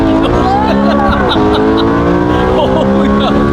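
BMW E93 M3 with a naturally aspirated V8 engine accelerating hard, a loud, continuous rising engine roar with climbing pitch and a brief dip at a gear change, heard from inside the car with people reacting over it.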